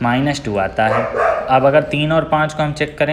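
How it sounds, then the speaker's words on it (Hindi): Outside, a dog keeps barking in short bursts behind a man's continuous Hindi maths explanation, the barks distant and mostly buried under his nearby voice. "कुत्ते को भौंकने दो यार,"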